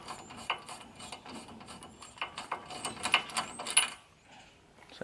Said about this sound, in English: I'll loosen this nut.